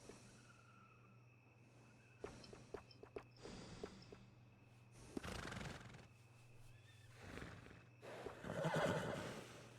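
A horse in Red Dead Redemption 2 whinnies and snorts, with several short neighs and breathy snorts, plus soft hoof clip-clop, near and fairly quiet, and no talking.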